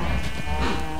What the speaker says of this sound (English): Sheep are fine, they don't need to be bred or anything.